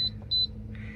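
A pressure cooker timer gives two short high electronic beeps close by as it is set, followed by a softer tone, over a low background hum.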